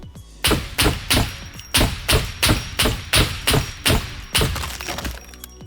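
Barrett rifle rounds in the SCUM video game strike a level-2 wall up close, a rapid series of about nine loud, heavy impact thuds with cracking and breaking texture, evenly spaced and alone without talk.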